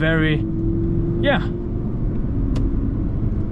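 An Audi R8 V10 Plus drives on Swiss alpine mountain roads. A short engine rev climbs sharply in pitch, a second brief rev follows, and then a steady low rumble carries on inside the car.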